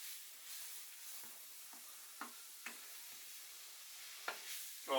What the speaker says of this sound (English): keep stirring and frying it for a minute